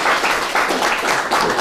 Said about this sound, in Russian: Предлагаю еще раз Алису проводим гордыми аплодисментами